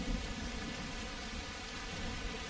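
Steady rainfall in a game world, a continuous even hiss of falling rain with no other sounds and no talking.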